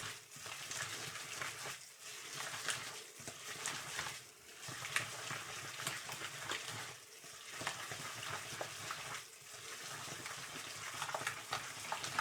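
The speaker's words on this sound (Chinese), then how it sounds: "肉馅儿吸收掉汤汁以后，咱们再多给它搅拌一会" Pork dumpling filling being stirred and beaten in a bowl, a continuous wet, sticky churning with rhythmic squelching strokes, close and steady, with no talking.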